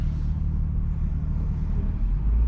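A 500whp B58-powered car cruising with the throttle closed, giving a steady, loud low engine drone and rumble that holds evenly throughout with no talking.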